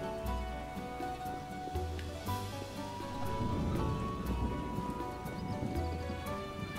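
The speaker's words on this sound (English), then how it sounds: "Look at this rain." Steady rain patters over a continuous hiss in The Witcher video game, with low rumbles and clopping hooves mixed in beneath sustained musical tones.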